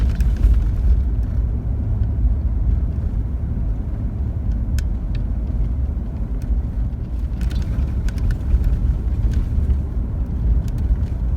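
A car travels a rough gravel stretch of the Dalton Highway in Alaska at about 31 mph, giving a loud, constant low rumble with road and wind noise filling the cabin and occasional faint rattles.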